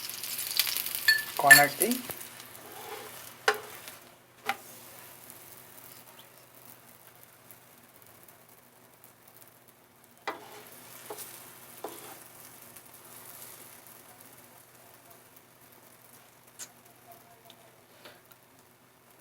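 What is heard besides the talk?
potato paratha frying with oil poured around it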